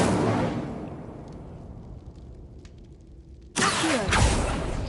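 An Incendio fire spell in Hogwarts Legacy ends a dying roar with a quiet stretch, then erupts in a sudden loud burst of fiery whoosh that keeps crackling to the end.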